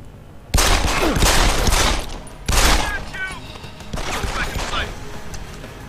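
A sentry turret firing in the Deus Ex: Human Revolution video game, loud rapid bursts in two or three volleys, with someone talking over the gunfire.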